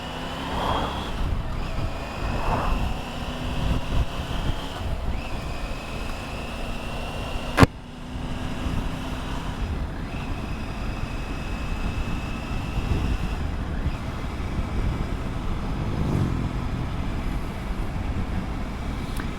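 Triumph Tiger 900 Rally Pro motorcycle ridden on the B3006 road, a continuous engine drone with rising and falling gear tones, wind rush and one sharp knock partway through.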